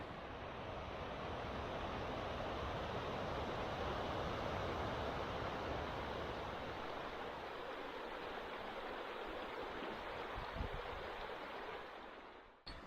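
A mountain river rushes beside a trail in a steady, broad roar of flowing water that holds even for nearly the whole stretch, without talk.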